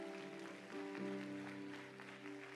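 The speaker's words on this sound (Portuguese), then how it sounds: "Aplauda Jesus por isso." A church congregation applauds in a dense, continuous wash of clapping lasting a couple of seconds, with sustained musical tones and organ-like chords running underneath.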